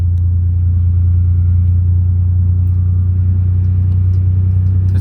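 A steady low truck engine rumble drones inside the cab, loud and unchanging throughout with no talking.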